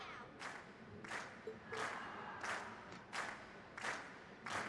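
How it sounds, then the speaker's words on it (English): A crowd at a concert in the video game Trails of Cold Steel cheers in rhythmic bursts, roughly six evenly spaced swells of shouting and clapping that sound somewhat distant and moderately quiet. "we've heard your cheers loud and clear"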